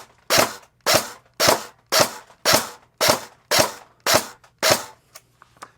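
Nine rapid, evenly spaced shots from a CYMA REC10 SR25 airsoft rifle firing 0.40 g BBs, each a crisp crack with a short mechanical tail, about two per second, followed by a few faint clicks.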